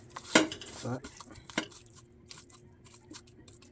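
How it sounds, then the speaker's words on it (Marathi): Clams being mixed with masala in a pot, with a couple of sharp metal spoon knocks and scrapes against the pot near the start, then quieter stirring rattles and clinks over a low background. "मित्रांनो, हा थोडासा असा मिक्स करून घेऊया, म्हणजे त्याला पूर्णपणे मसाला लागेल."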